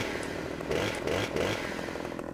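Chainsaw in the farming game Farming Simulator 15, a steady buzzing engine drone running continuously with slight surges in intensity, close and loud, no talk over it.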